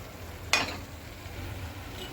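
A spoon scrapes once through spinach paneer curry and spices in a pan, a brief clear stroke over a faint steady sizzle, with no talking.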